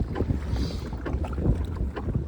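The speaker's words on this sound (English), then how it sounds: "waves picked up just a tad." Small waves on Lake Texoma slosh and lap against a fishing boat in a continuous choppy patter, mixed with gusty wind buffeting the microphone.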